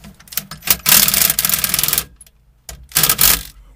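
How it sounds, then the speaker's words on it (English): A ratchet snugs a seat bolt during a 2007–2010 Sprinter third-row seat installation, giving rapid close clicking bursts in two main runs separated by a short pause, with no talk. "We're going to snug the first bolt because this one's on a slot."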